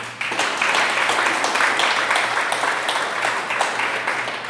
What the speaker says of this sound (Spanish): Otro aplauso para Jesús.